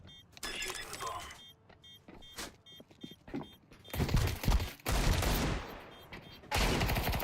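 Gunfight in the video game Counter-Strike, with bursts of rapid gunfire and fusillades, heavy loud volleys near the end, and a muffled stretch between them.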